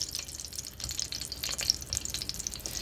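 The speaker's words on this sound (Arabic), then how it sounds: "هنجيب حلة وهنحط فيها معلقتين من الزيت ومعلقة من الزبدة" Butter and oil sizzle steadily in a cooking pot, a continuous close crackling hiss with small spattering pops and faint stirring, no voices over it.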